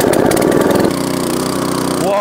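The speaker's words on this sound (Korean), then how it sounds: "악셀에다 위치를 중간쯤에 놓으시고 시동을 걸어보겠습니다" A 6.5 hp four-stroke dual-shaft cultivator engine with the throttle set midway catches and runs, giving a loud, close, steady chugging drone with a faint voice over it.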